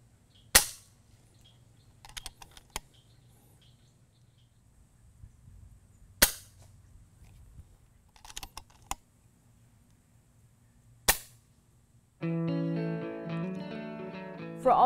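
FX Royale 400 .22 air rifle firing: several sharp, close cracks spaced a few seconds apart, each followed by faint clicks of the action, then music begins near the end.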